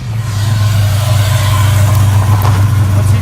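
A modified HGK BMW E92 Eurofighter is driven off with a loud, deep engine rumble that builds and holds strong close by, its low growl dominating with a rising rev and no talk.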